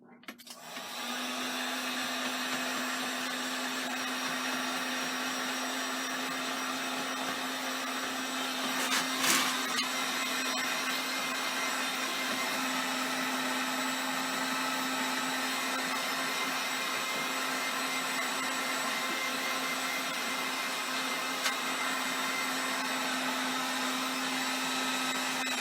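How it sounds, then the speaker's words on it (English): A heat gun blows steadily to speed the drying of a finished oil painting, its continuous whirring fan and motor tone holding nearly unchanged for the whole span. "I'm going to use a heat gun on this"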